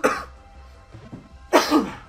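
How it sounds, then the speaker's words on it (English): A man clears his throat and coughs during a Pokémon GO live stream: one short harsh burst at the start, a softer rasp around the middle, then a louder, longer hacking cough near the end, close to the microphone. "Clear my throat."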